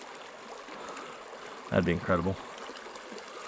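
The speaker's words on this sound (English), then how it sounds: "As that water's coming down," Hot spring water flows down a stream in a steady, soft outdoor rush, and someone speaks briefly over it partway through.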